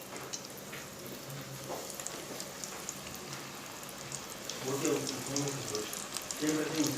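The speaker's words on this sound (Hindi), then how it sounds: "तो अभी हम इसको फ्राई करते हैं। यहाँ पे हमने ऑयल भी गर्म कर लिया है, सिंगल सिंगल करके इसमें डालेंगे।" Boneless chicken strips dropped one at a time into hot oil, a continuous crackling sizzle with bursts of bubbling that grow louder toward the end, with faint voice in the background.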